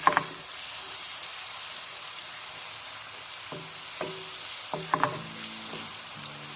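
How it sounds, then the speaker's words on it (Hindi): Chopped onions sizzle steadily in hot ghee, a dense continuous hiss with a few sharper clinks and scrapes of stirring scattered through. "देखें जी हमने अनियन ऐड कर दिया। अब हम इसे थोड़ा फ्राई करेंगे।"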